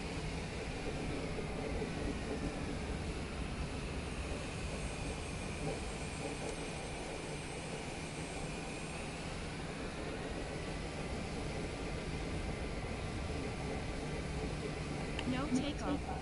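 An airliner engine holds a steady, loud drone during the takeoff roll in Microsoft Flight Simulator 2024 on PS5, with a faint tonal whine sweeping midway and a rattle near the end; someone speaks over it.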